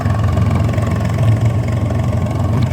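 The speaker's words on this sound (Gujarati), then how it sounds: "કેમ કે ચાલુ ટ્રેક્ટર છે" A tractor engine running close by, a loud steady low rumble that idles evenly throughout with no voices over it.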